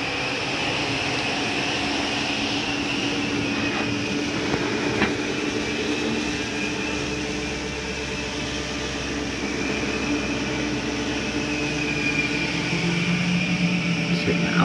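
An RV slide-out on a Shamrock 21SS camper extending, a continuous motorized drone and grinding hum that runs steadily for the whole stretch at moderate loudness, with no talk.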